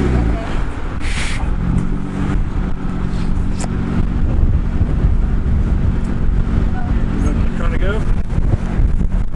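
A Jeep snow wheeling at Weston Pass, Colorado, backs out with a rough, rumbling engine under heavy wind buffeting, loud and close throughout, while people talk over it.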